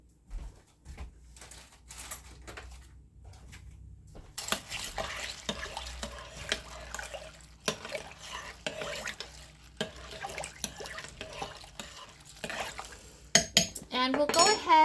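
Spoon and cutlery being handled in a home kitchen: scattered metallic clinks, scrapes and taps against pots and dishes, fairly close, in irregular bursts with a few louder clatters near the end.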